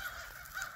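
A crow caws near a farmland cedar post, a bright repeated harsh call standing out over faint outdoor background with no talk.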